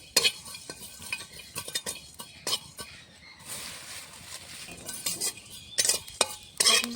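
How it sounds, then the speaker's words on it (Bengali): Panch phoron spices are dry-roasted in a dry pan and stirred, producing scattered scraping and clinking utensil strokes over a faint, quiet rustle. "আমি আমের চাটনির জন্য পাঁচ ফোড়নটা ভেজে নেব শুকনো খোলাইতে"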